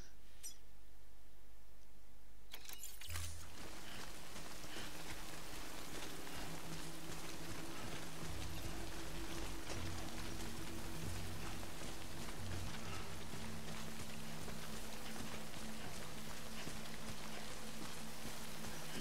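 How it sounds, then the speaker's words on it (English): Fine rain falls in the video game Death Stranding, a soft, steady hiss with a low droning hum beneath. It starts abruptly after a quiet moment and continues evenly with no talking. "That is that fine rain, you know. The one that soaks you through."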